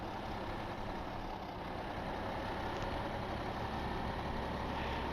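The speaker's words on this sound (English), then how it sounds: "the engine noise on this has the constant idle sound of a diesel" A diesel tractor idles steadily with a constant, even rumble in Farming Simulator 2015, a dense broadband drone with no gaps and no voices.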